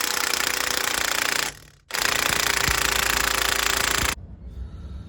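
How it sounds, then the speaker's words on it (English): An impact gun hammers loudly on truck U-bolts in two long rattling bursts with a short gap between, then stops and leaves quieter background noise. "hopefully get my impact gun on there"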